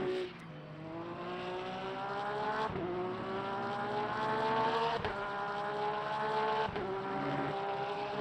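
A BMW endurance race car in Le Mans Ultimate at Qatar, its engine whining as it climbs steadily through the gears, each upshift breaking the rising drone. There is no talk.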